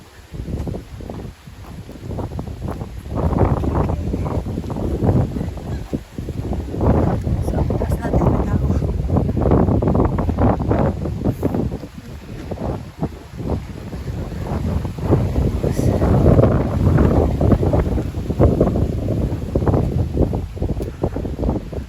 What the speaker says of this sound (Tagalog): Mga lakas ang hangin. May bagyo ngayon kasi ngayon eh.